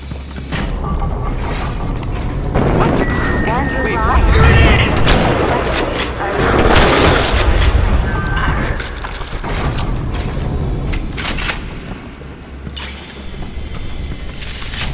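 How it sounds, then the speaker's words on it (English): Shotgun blasts in the video game Bioshock boom repeatedly across the clip, loud and close, mixed with clattering mechanisms and dense game noise. "I will shoot you with this shotgun"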